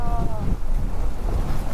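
Strong wind buffets the microphone at a seaside camping site in Gubat, Sorsogon, a steady roaring rumble with surf-like wash beneath it; people talk faintly under the gusts.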